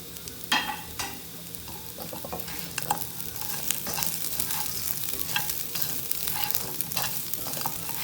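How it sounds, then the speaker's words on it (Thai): Pork ribs stir-fried in a pan with chili and salt, sizzling and frying loudly throughout as a utensil repeatedly scrapes and tosses them, close up and without voices. "ผัดให้เข้ากันครับ"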